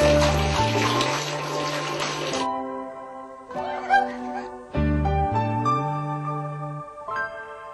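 Water runs steadily from a tap for a couple of seconds, mixed with bright music, then the flow stops while sustained musical tones continue, with brief bursts returning later.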